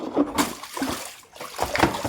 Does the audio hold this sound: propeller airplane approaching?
no